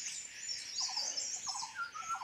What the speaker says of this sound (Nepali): यस्तो चराको आवाज कहाँ कहाँ सुन्नु पाइन्छ